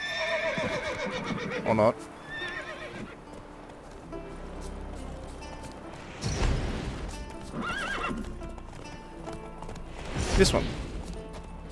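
In the Witcher 3 video game, a horse whinnies and its hooves clip-clop in short bursts, while someone talks over the sounds.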